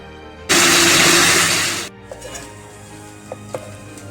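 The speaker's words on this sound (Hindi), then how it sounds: "इसमें थोड़ा सा पानी डालकर मैं इसको ग्राइंड करती हूँ।" Electric blender grinds onion, tomato, garlic, ginger, nutmeg and mace with a little water into a paste, a loud steady whir for about a second and a half that cuts off abruptly, followed by faint kitchen clinks.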